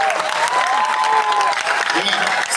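An audience at a festival evening show bursts into loud, continuous applause, dense clapping mixed with voices and a tonal sound running through it.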